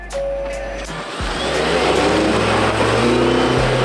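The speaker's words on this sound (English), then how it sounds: "on 3, on action, reverse, full throttle" A Hyundai car reverses at full throttle on a Finnish film set, the engine revving hard and rising in pitch, loud and near, with brief gear shifts and no talking.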